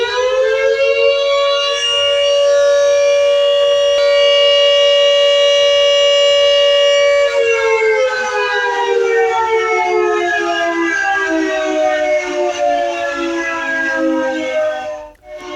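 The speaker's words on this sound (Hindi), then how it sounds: "एक बार फिर से जरा सायरन की आवाज सुन लीजिए आप।" A loud wailing air raid siren in Panchkula, India, holds a steady tone, then slowly winds down in pitch, sustained and alone for about fifteen seconds.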